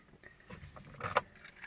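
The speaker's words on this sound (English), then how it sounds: "Okay, take the key fob." Keys on a Ferrari 360 key fob jangle briefly and closely, a quiet metallic rattle that peaks in a short cluster of clinks near the middle, with no voices.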